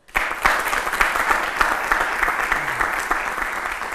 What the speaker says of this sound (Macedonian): Господине Наумовски заслужува аплауз секако.